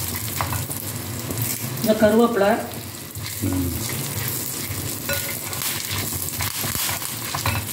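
Curry leaves and garlic sauté in a pan with a steady, close sizzle throughout, while a voice speaks briefly near the start.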